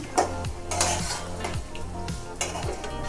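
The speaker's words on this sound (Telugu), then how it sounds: "ఇవి యాడ్ చేసుకుంటాము ఒకసారి వేయించుకుంటాము" Green chillies, cut long and thin, stirred and frying in a pan for chicken gravy, with a steady close sizzle and repeated scrapes and clinks of a utensil against the pan. No one speaks.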